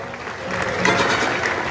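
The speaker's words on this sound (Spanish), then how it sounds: "¡Fuerte el aplauso!" Dense crowd applause after dance group performances at a town fair, steady and loud throughout the short span.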